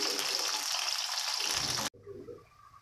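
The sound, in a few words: Sundanese sambal goreng being fried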